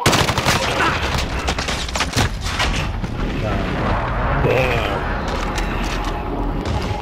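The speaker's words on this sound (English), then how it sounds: "Enemy precision airstrike." Loud, dense barrage of explosions from a precision airstrike in Call of Duty: Modern Warfare, with repeated booms and rattling gunfire crowding the mix for several seconds.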